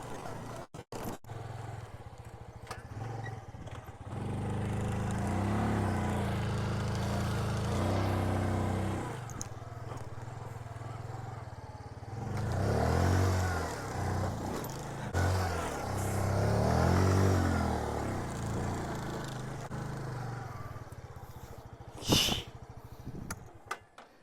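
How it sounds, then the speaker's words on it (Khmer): A motorcycle engine, ridden just after an oil change, revs up in several rising surges and holds steady between them during a power test ride, heard close and at moderate level with wind buffeting. "យើងកំពុងតែជិះសាកកម្លាំងម៉ូតូរបស់យើងបាទចង់ដឹងថាវាខ្លាំងប៉ុណ្ណាបាទ"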